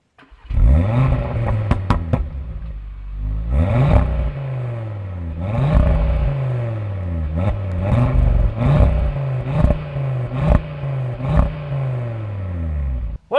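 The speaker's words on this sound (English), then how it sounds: "So now, let's have a listen." A 2024 facelift Audi RS3 accelerates and revs hard on a track, its engine note rising through repeated gear changes with sharp shift cracks and pops, loud and close with no talking.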